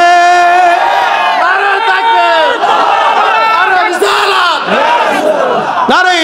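A large religious crowd chants a slogan back to a preacher, many voices roaring together in long, loud, rising shouts that fill the space, close and overpowering.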